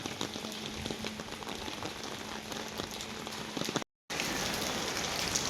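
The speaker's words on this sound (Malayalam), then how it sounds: "മഴ കുറഞ്ഞു കേട്ടോ വരുന്നേരം നല്ല മഴയായിരുന്നു ഇപ്പം മഴ കുറഞ്ഞു" Rain falls in a steady, soft patter that stays even throughout, broken only by a sudden short gap of silence before it resumes.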